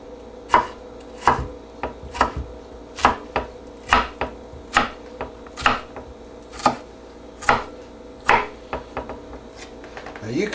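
A knife chops bell pepper on a cutting board in a steady run of crisp, close knocks, about one to two per second, with faint background noise between them.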